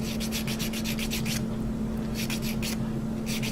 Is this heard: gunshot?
no